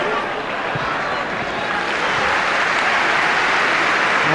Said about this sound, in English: the applause you can hear is the Everton fans who are delighted with what they're seeing here